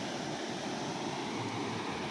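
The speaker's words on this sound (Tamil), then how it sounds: "தண்ணி அப்படியே போகுது பாருங்கள்" Water pours steadily over a dam spillway at Maruthur, a dense continuous rushing roar that stays close and loud with no break and no voices.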